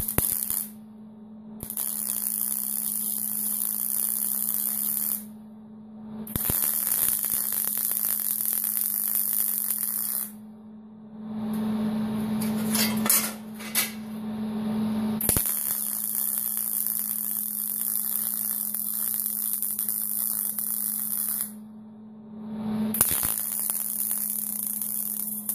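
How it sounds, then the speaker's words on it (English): TIG welding a bead on a magnetic torch holder, working both sides of a warping part: a steady electric buzz and hiss with a low mains hum, running in several long stretches separated by brief pauses, with no talking. "Now I'm going to run a bead across it and maybe do a little from the other side"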